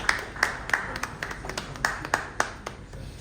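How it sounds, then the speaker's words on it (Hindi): A small seminar audience claps for an older man, about eight separate claps scattered unevenly across a few seconds, fairly quiet and sparse rather than a full ovation. "जी तालियां बजा दीजिएगा अंकल के लिए।"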